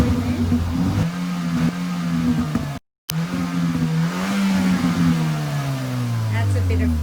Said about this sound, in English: just to finish up a little bit of footage with the car on a cold start, just to give you a bit of a listen to the sound.